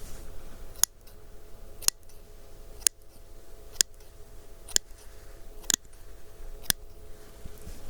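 Seven sharp, crisp snips from a pair of plastic scissors, evenly spaced about a second apart, close up over a faint background hum.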